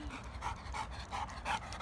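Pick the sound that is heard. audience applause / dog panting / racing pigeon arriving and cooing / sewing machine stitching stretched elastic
dog panting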